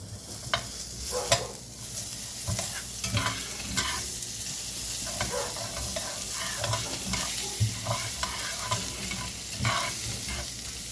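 Rice browning in butter in a pan, with soft sizzling under repeated scraping and stirring strokes that come in irregular bursts, close and moderately loud.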